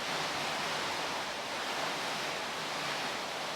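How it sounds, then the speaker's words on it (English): Constant, broadband rushing of rain, steady and uninterrupted with no voices. "Oh, can you hear the rain?"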